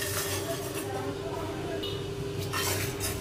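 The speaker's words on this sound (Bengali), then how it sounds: "আর শুকনো মরিচটা দিয়ে এখন আমি সব কিছু একসাথে শুকনো খোলায় হালকা করে ভেজে নিব।" Dried chillies and spices for a mango pickle are dry-roasted in a pan, heard as a spoon scraping and clinking against the metal in a steady rhythm over a low background hum.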